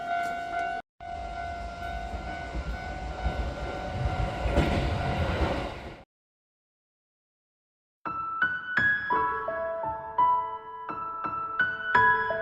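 A Chiba, Japan train station: a train rumbles loudly for several seconds and stops abruptly, then after a brief silence a melodic chime and station tones ring out clearly.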